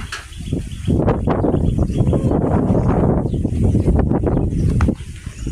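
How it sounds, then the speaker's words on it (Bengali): Strong outdoor wind under a cloudy sky after overnight rain, roaring loudly and steadily in broad gusts through garden plants, with faint rustling and possible bird calls. "বাতাসটা না মনে হয় উড়ে নিয়ে যাবে"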